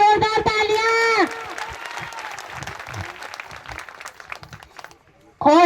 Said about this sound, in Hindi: लगा दो जोरदार तालियां